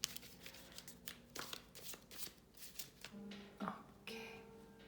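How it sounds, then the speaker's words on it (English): Tarot cards are shuffled in quick, faint riffles and slaps, an irregular run of soft papery flicks recorded up close with no one speaking. "these cards, they are so beautiful, but they are very difficult to shuffle"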